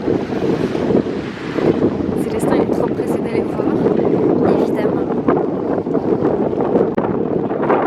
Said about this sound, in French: Mais comme vous pouvez voir, il y a du vent.